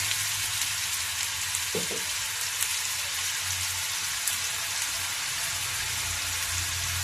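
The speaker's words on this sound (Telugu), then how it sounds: "ఇది ఆయిల్ వేసుకుని గిన్నె పెట్టుకున్నానండి. కొంచెం మసాలా కూడా వేసుకున్నాము" Ginger-garlic masala made with cumin and coriander fries in oil in a pan for a raw mango fish curry, giving a steady, close, even sizzle and crackle throughout, with no voices.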